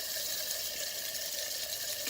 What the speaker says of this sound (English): Pump kicked on.